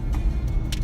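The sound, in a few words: car interior driving noise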